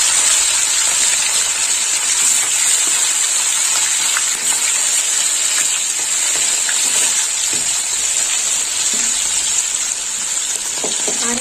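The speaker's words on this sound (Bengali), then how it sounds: "মাছের মাথাগুলো ভাজা হোক।" Catla fish heads fry in hot oil with a loud, dense, unbroken sizzle that holds steady from start to finish, close up.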